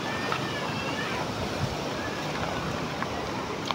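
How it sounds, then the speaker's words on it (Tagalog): Continuous rushing wind from Typhoon Pepito in Lopez, Quezon, Philippines buffets the microphone, a steady roar with small gust bumps and occasional faint knocks. "bumubugso ang hangin mga idol"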